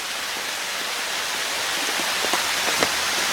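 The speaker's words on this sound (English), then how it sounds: "it's right now raining" Steady rain patters on a taut canopy over a hunting stand at a deer camp, a dense hiss with occasional heavier drips landing close by.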